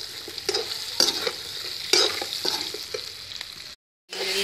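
Green chillies frying in a pan over a wood-fired stove on low flame, with a steady sizzle and several stirring scrapes, close. A brief silent gap comes near the end before the sizzle resumes.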